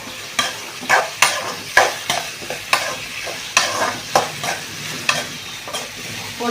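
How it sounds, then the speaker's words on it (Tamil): Chopped tomatoes sizzle in hot oil in a pan while being sautéed for a dried-fish relish, with a spoon scraping and stirring in a steady rhythm of sharp strokes over a soft continuous fry. "போட்டு நல்லா வதக்கிக்கலாம்."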